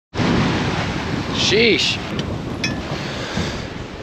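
Strong wind of close to 20 knots roars across the microphone while waves rush past a Catalina 30 under sail, a dense, loud wash throughout, with a man briefly exclaiming and a faint squeak partway through.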